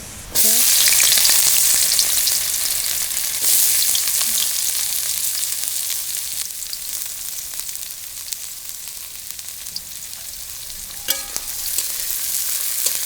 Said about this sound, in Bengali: এখন হলো মগজ ভাজির জন্য দিয়ে দেওয়া হচ্ছে তেল